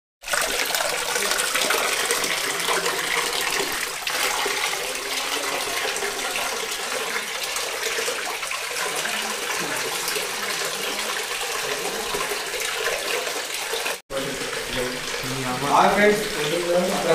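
Water pours steadily from Nandi spouts into a temple pond on Brahmagiri hill, the source of the Godavari, making a loud, continuous rushing gush with a brief break near the end.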